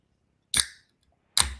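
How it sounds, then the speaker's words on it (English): Two sharp cracks of a Guinness beer can being opened, each a crisp snap followed by a brief hiss of escaping gas, close and clear against near silence. "I'll be rooting hard for you to be able to crack that Guinness soon, George."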